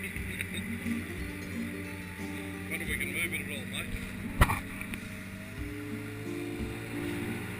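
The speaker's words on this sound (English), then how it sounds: "We jump in Annecam, our dinghy, and head into shore." The dinghy Annecam motors in to shore from an anchorage off Magnetic Island with a steady low outboard drone and water sloshing, plus one sharp knock midway, while a voice talks over it.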